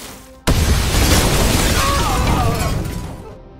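A homemade grenade goes off inside a house in an action film: one sudden, loud blast that holds as a roaring, debris-filled rumble for about three seconds before fading.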